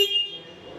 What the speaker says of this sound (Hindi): ये हॉर्न एक बार चला के देख लेते हैं।